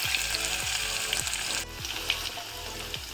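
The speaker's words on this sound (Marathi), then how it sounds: "तर मी फोडणीसाठी सर्वप्रथम लसूण टाकून घेते। लसूण बारीक चेचून घेतलेली आहे।" Finely crushed garlic sizzles in hot oil in a pan for a chicken rassa, a dense, bright, continuous crackle close to the listener, with soft periodic knocks underneath.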